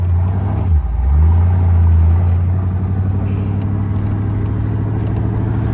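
A 1964 Corvette convertible with about 375 horsepower pulls away and accelerates, its engine rumbling loud and close with a rising growl that settles into a steady drive.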